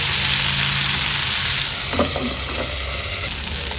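Fish fries crisply in a pan, giving a loud, steady sizzle that fills the whole clip. A few soft stirring or turning clicks come in near the end, and no one speaks.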